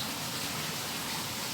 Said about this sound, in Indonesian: keadaan masih dalam keadaan hujan saat ini.